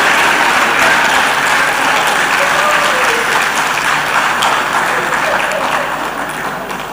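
A large audience at the Lagos Employment Summit 2022 breaks into loud, sustained applause, a thick wall of clapping that holds steady and then begins to fade in the last second or two.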